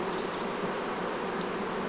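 Honeybees swarm around a homemade beehive, a dense, steady buzzing drone that fills the air close by and holds an even loudness throughout, with no talking.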